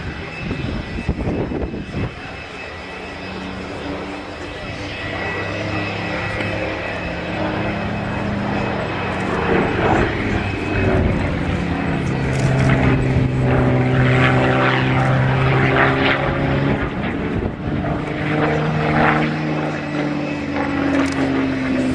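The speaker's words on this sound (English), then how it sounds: "It's a nice barrel roll to finish the Spitfire's display." Spitfire propeller aircraft flying an air display with a barrel roll, its engine drone swelling and shifting pitch as it passes, fairly distant and continuous, with faint talk beneath.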